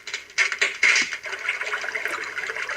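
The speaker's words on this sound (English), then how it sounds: "babbling stream, I like this one," Babbling stream ambience from a Medisana WL444 wake-up light: rushing, gurgling water with a few louder splashy surges early on, then a steady trickling wash at moderate level, no speech.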